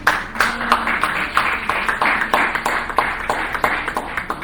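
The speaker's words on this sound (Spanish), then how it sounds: "Esos aplausos como que no lo estoy muy convencido" Church congregation clapping in a rhythmic, evenly spaced beat, close and moderately loud, with a murmur of voices underneath.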